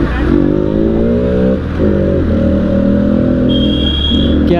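A Hero Splendor motorcycle engine revs loudly and close, holding a steady droning note that dips briefly and climbs again, with a faint voice underneath.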